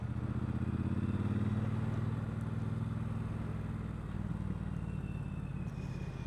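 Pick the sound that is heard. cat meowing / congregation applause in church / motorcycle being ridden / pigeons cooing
motorcycle being ridden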